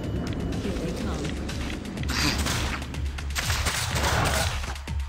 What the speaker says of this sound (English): Pretty funny nail gun.